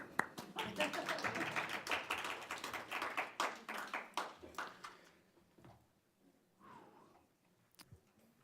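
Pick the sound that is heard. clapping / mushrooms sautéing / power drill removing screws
clapping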